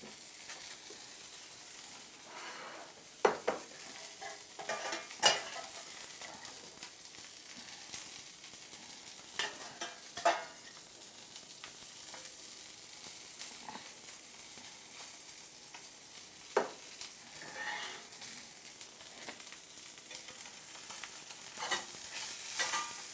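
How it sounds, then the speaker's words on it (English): Salmon fillets sear in a hot pan with a soft, steady sizzle, broken by occasional louder clinks and scrapes as the fish is moved about; no one speaks. "Salmon's got a real nice sear on it."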